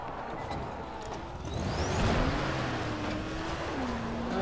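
A stuck car revving in the video game Dying Light: The Following, a loud, straining engine whine that climbs and holds steady over rumbling noise for several seconds, with no talk.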